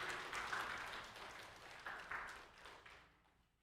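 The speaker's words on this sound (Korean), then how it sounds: "큰 박수로 환영해 주시기 바랍니다." Wedding guests applaud at a ceremony, a crowd clapping steadily at moderate distance with a brief swell partway through before it fades out.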